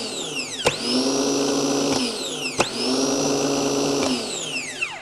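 A starter motor on a test bench, switched by its solenoid, whirs up sharply with a click, spins with a steady high whine for about a second and a half, then cuts off, and repeats in the same pattern several times.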